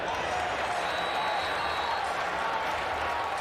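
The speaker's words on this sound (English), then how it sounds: "Bison fans here inside the Fargodome are reacting as if the foot was down. We're seeing a lot of clapping." Bison fans clap inside the Fargodome during an NCAA FCS Championship first-round football game against Drake, a steady wash of crowd applause that holds evenly throughout.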